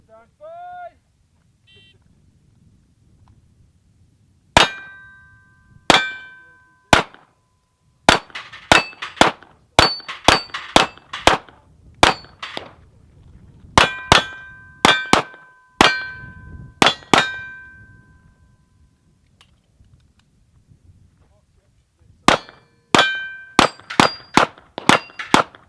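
Gunshots ring sharply off steel targets at a shooting range, a series of bright metallic clangs in bursts and quick strings with pauses between, each ping decaying briefly; faint background sounds between strings.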